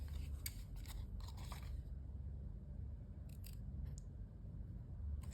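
Scissors snip through folded paper while making a craft box, a quick cluster of close crisp cuts, a pause, then a few more sharp snips over quiet room noise.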